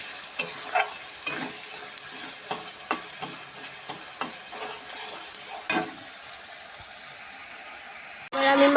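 Salted chicken with meat masala is stirred and fried in a pan: rhythmic spatula scrapes repeat about every half second over a continuous close sizzle, then the stirring stops and only the frying hiss remains.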